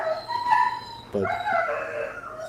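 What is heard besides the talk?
dogs barking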